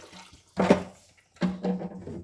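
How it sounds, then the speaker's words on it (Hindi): Bowlfuls of water are poured into a pan to start sugar syrup for suji halwa, two separate short splashing pours close up in a quiet kitchen. "इसमें हम 3 बोल भर के हम इसमें पानी ऐड कर देंगे।"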